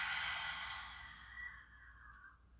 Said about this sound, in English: Nice big inhale. Nice big exhale.